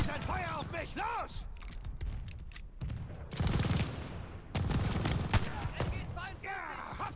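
Rapid bursts of gunfire and explosions fill a firefight in the World War II shooter game Call of Duty: Vanguard. The loud, dense volleys run almost continuously under excited voices speaking German.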